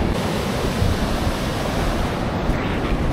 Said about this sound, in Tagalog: Mataas yung alon. Tapos mahangin pa